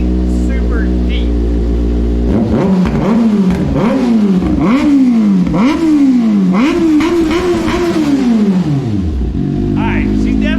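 A Kawasaki ZX6R sport bike fires up and revs hard, its deep, loud engine sweeping up and down in a rapid series of sharp throttle blips before settling back down.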